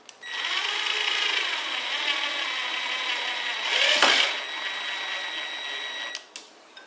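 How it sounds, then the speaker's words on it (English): A powered screwdriver drives a screw into a plasterboard fixing, a steady whirring motor whine that strains louder as the fixing tightens, then stops with a click. "Watch what happens when the screw starts tightening up this fixing."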